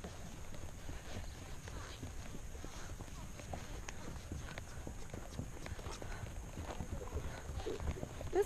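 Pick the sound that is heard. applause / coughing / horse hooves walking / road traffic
horse hooves walking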